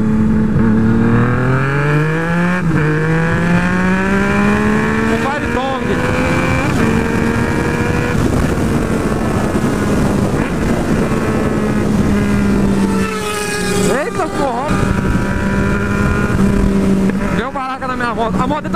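A Yamaha MT-09 motorcycle accelerates hard in second gear, its engine note climbing steadily with strong rising harmonics, loud and close, with wind rush and a brief gear change or throttle lift midway.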